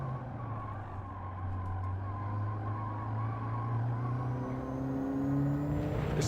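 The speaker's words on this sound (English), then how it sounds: "Listen to those tyres squeal." Car tyres squealing during a racing video game time trial, a steady engine drone with rising whine and tonal squeal bands running continuously at even loudness throughout.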